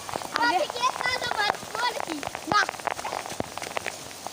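Rain patters steadily on a large open field with scattered drops, while voices talk and call out over it nearby.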